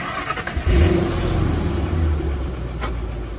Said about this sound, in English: here we go with listening to the startup